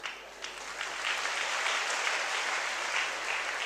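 Dense, steady hand clapping that swells slightly after the opening and holds at an even level to the end, with no voices over it.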